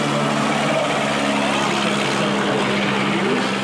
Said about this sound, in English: Here comes car number 4, a 1912 Torpedo Roadster.